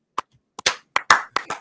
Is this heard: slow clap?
yes